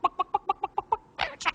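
A parrot imitates a hen's clucking with seven quick, evenly spaced clucks, then finishes with a few louder, squawkier calls, close and clear on a talent show stage.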